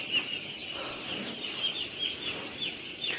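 Chickens in a poultry farm shed cluck and chirp in a steady, busy chorus, many birds blending into a continuous moderate-level murmur with brief sharper calls popping out throughout.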